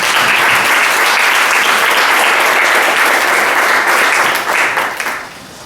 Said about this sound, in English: Please, applause to them.